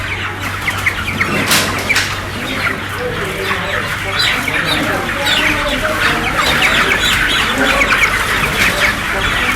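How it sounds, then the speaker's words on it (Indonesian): Hundreds of caged chickens cluck continuously in a dense, loud chorus, with overlapping calls and occasional wing flapping, and a voice talks over them. "Video diawali dengan gambar ratusan ayam yang terkurung"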